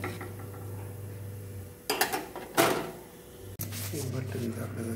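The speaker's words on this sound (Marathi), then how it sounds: "आता मी हलवून आणि यावरती झाकण ठेवून घेणार आहे।" A spoon clinks and scrapes inside a pot of boiling beans, then a lid clatters down onto it in a kitchen. The sharp metallic knocks are close and brief, between stretches of quieter background with some talking.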